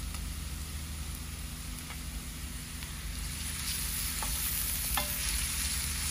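Garlic and spices being fried and stirred in a pan, with a steady sizzle throughout and occasional faint clinks of a utensil, no talk.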